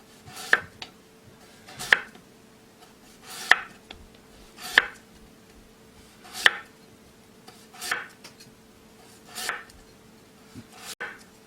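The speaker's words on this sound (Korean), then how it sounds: "고구마를 썰겠습니다." A knife cuts sweet potato into thin slices on a board, making about nine evenly spaced crisp chops, each a distinct thunk, close and isolated in a quiet room.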